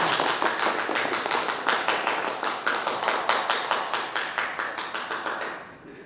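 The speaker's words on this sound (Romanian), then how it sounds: "Hai să aplaudăm!" Audience applause fills a book launch in Onești, Romania: steady, dense clapping from a crowd for several seconds, rhythmic and fairly loud, then fading out at the end.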